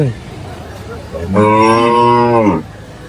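At a weekly cattle market in Sholakia, Kishoreganj, a cow lets out a single long, loud moo that rises and then holds steady, heard close by over faint background noise.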